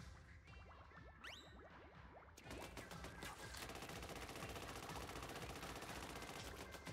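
Douser Dualies firing in Splatoon 3 make a steady, rapid stream of sharp repeated shots. A few scattered pops come first, then a continuous rattling volley runs to the end.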